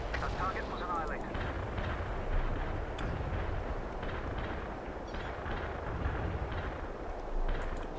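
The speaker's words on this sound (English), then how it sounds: "Heavy barrage commencing. We're bombarding the target area." Artillery barrage in the video game World in Conflict: a continuous rumble of heavy shell impacts and booms over eight seconds, dense and loud, with a few sharper blasts standing out.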